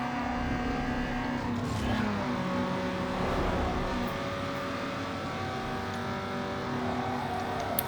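A racing car in Need for Speed Underground 2 runs with a sustained, steady engine drone and shifting tonal whine, continuous and fairly close, with no talk over it.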